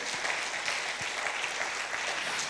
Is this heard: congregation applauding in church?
yes